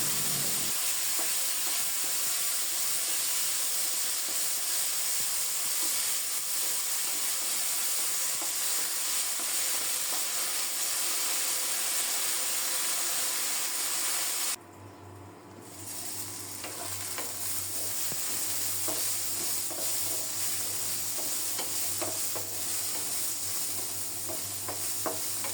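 Yardlong beans and eggplant frying in mustard oil with black cumin in a wok, a loud, dense, continuous sizzle heard up close, briefly dropping and then returning with a lower hiss as the vegetables settle, no voices.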